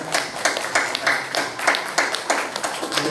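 Congregation clapping during a church service, a loosely rhythmic run of claps at moderate loudness that continues steadily for a few seconds.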